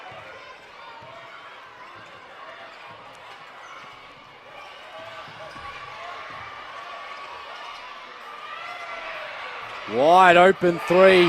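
Basketball arena crowd at the Townsville Entertainment Centre during a close WNBL game, a steady murmur of fans with sneaker squeaks and a commentator talking over it, swelling into a loud roar near the end.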